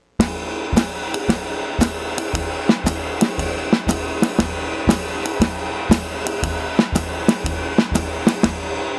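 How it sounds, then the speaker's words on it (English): Jazz drum kit playing a steady coordination exercise, alternating bars of downbeat and upbeat accents over a continuous ride and cymbal wash, with crisp regular hits throughout; close and alone. "I practiced playing 2 bars of downbeats and then 2 bars of upbeats"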